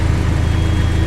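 A Subaru engine idles through a 4-inch muffler axle-back exhaust, a loud, steady low rumble with even pulsing and no talk over it.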